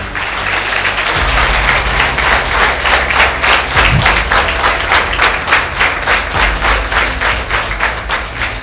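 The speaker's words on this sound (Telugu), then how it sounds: "మీకోసం మీరు క్లాప్ కొట్టుకోండి గట్టిగా" A college audience at a talk in Pathapatnam claps loudly in a fast, even rhythm, a dense wash of hand claps filling the hall with a low hum underneath and no speech.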